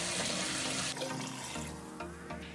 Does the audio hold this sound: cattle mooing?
no